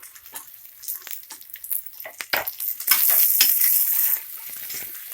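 Eggplant pieces and onions frying in a pan for vangibath sambar, with scraping stir strokes over a steady sizzle that grows louder and denser midway, close and without talk.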